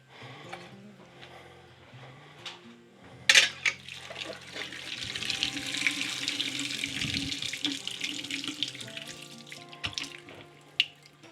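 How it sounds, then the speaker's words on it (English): Water runs and splashes at a kitchen sink while fistfuls of grated potato are squeezed to wring the water out, with wet squelching and dripping over a steady faucet stream and a few sharp knocks. "once you start getting the water out, you want to use your fist, and you just want to squeeze it"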